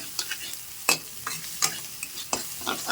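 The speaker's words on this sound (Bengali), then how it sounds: "আমি আদাটাও ভালো করে জাস্ট ভেজে নিচ্ছি সুন্দর করে" Chopped ginger frying in a pan crackles softly while a spoon scrapes and stirs it in regular strokes, with sharp clacks about every half second over a low sizzle.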